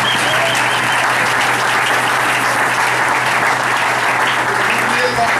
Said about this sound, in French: Est-ce que voulez-vous acclamer pour votre pasteur?